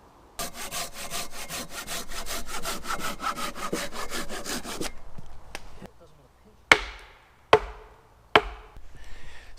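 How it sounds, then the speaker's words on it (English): Hand saw cutting through wood on a sawhorse, steady rhythmic strokes for several seconds, then a pause followed by a few separate sharp knocks or chops on the wood, close and clear. "makes it easier to put the wood on and saw it down to the length"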